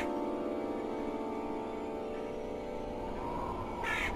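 A crow cawing in the pixel-art horror game The Last Door, heard over a steady droning ambient tone, with a brief harsher burst near the end.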